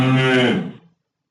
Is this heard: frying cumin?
no